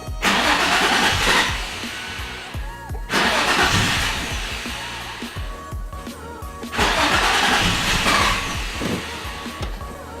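A Nissan 350Z cranks repeatedly without starting, three loud bursts of starter whirring separated by short pauses.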